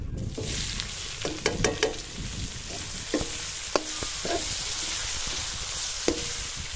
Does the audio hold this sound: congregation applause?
no